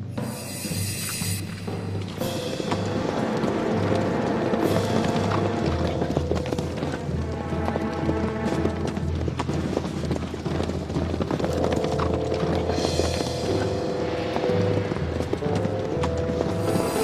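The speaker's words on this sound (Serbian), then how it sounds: "U trku konjanici se razdvajaju u dve kolone." Cavalry horses gallop in a charge against an army, hooves clip-clopping in a steady loud rhythm that runs throughout alongside a low droning background.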